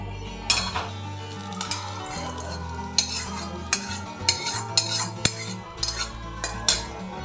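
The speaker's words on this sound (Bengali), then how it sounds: "কারি পাতা দিয়ে একটু নেড়ে নিচ্ছি" Curry leaf tempering stirred in a pan with a metal spoon, a string of sharp clinks and scrapes against the pan over a low background hum, close and fairly loud, no voices.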